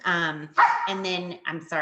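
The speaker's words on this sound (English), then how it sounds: "that was my dog." A dog barks several times in quick, close succession indoors during a school meeting, the sharp yelps mixed with a person's apologetic speech.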